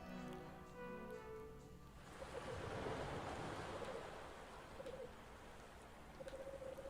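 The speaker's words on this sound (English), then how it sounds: "from the silence, the crashing of waves." Waves crash on a shore in the video game Anodyne 2: Return to Dust. A quiet tonal opening gives way to a broad, steady wash of surf, with soft bird-like calls now and then.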